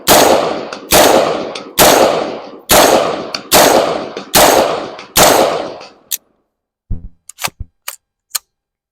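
A Palmetto State Armory PA15 5.56 rifle fires seven loud, evenly spaced shots about a second apart, each with a ringing tail, followed by several sharp metallic clicks and clinks of the action and brass.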